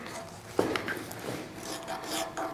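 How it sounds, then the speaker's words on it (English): A fine file rasps over a small metal scale part in short, quiet strokes, close by, a few scraping passes over a couple of seconds with no talking. "go around it like this with this finer file here to kind of dress that end a little bit"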